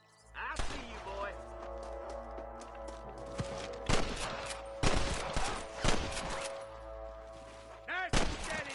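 Gunfire in the Red Dead video game: a series of sharp, loud shots in irregular bursts with some rapid volleys, heard amid game ambience, with voices speaking between the shots.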